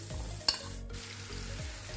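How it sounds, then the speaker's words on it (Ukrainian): Onion sizzles quietly in vegetable oil in a frying pan, a soft steady crackle with a sharp clink partway through, no voices. "На сковорідку додаємо трішки рослинної олійки, викладаємо нашу цибульку"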